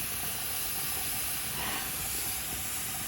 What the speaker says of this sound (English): you can see the steam there